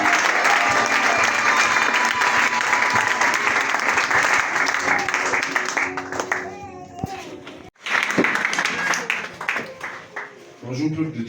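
A church congregation at a worship service bursts into loud sustained applause, which thins after several seconds into scattered clapping under voices before a short renewed burst.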